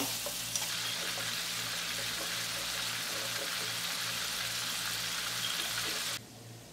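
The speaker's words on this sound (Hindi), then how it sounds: "ऑयल डाल दें 1/4 कप। अब इसके अंदर प्रॉन डालेंगे।" Prawns frying in a quarter cup of hot oil give a steady, close crackling sizzle with a low hum underneath, cutting off abruptly near the end.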